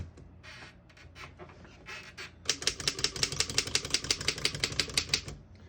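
A 1914 Royal 10 antique desktop typewriter clacks, first a few scattered keystrokes, then a fast, even run of sharp strikes, close and alone.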